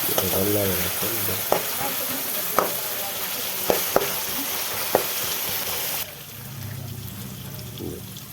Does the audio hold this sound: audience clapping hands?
no